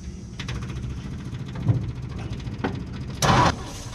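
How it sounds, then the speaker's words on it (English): A 1958 Ford F100 panel truck engine runs roughly on carb cleaner, a steady mid-pitched rumble with uneven surges and a louder burst near the end, no talking. "It's pulling fresh fuel from the new gas tank and it's running, sort of."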